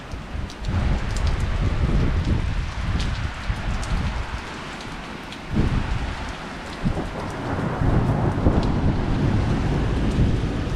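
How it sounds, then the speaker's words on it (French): Severe thunderstorm in August with strong wind and heavy rain, a dense, steady roar of rainfall and gusts that swells and dips throughout, with low rumbling beneath and no voices. "Et il y a pas mal de vent aussi."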